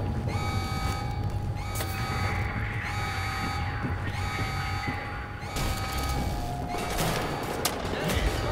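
Rapid gunfire crackles through a firefight in the video game Wolfenstein: The New Order, dense bursts layered over a constant loud game soundscape with droning alarm-like tones and mechanical noise.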